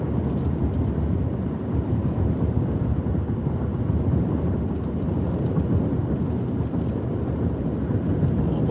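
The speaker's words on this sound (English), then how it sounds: "Starting to get a few raindrops now." Steady storm noise on the back side of an Iowa thunderstorm in summer, with light rain starting to fall amid continuous wind rumble and low thunder-like roar, no voices.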